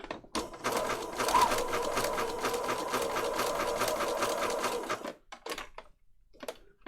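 A sewing machine stitching a zigzag around a paper patchwork tag runs at a fast, steady mechanical rattle for about five seconds, then stops, leaving a few light clicks and handling sounds.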